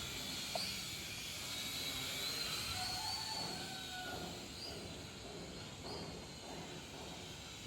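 A Blackhawk SQ800C toy drone flying, its steady whining buzz of small rotors holding through the clip with slight pitch shifts, at moderate distance.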